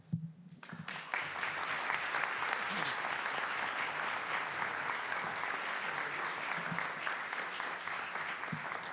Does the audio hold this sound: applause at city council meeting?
yes